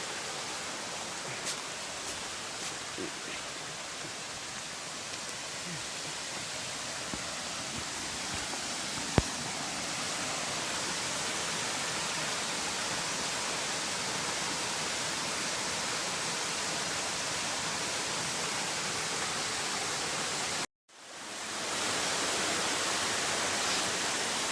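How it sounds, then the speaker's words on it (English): Steady broadband rush of the Hardcore Cascades waterfall along the Appalachian Trail, a dense continuous roar heard alone, with a brief cut near the end. "I think I'm approaching a formation called Hardcore Cascades"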